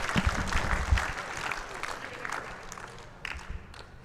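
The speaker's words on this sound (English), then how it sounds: "Round of applause for World Bowls team." Spectators applaud at an Australia versus Rest of the World bowls exhibition match, scattered crowd clapping that starts fuller and thins out, with a few louder claps near the start.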